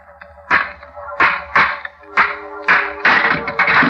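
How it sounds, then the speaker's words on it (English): An old rusty door lock struck with a stone, about seven sharp, loud metallic whacks in an uneven rhythm, each ringing briefly, with no talking. "Smashed the lock."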